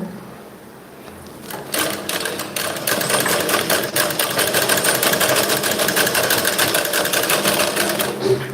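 A sewing machine stitching fabric piping starts after a quiet moment and then runs in a fast, steady mechanical chatter, loud and close, continuing to the end.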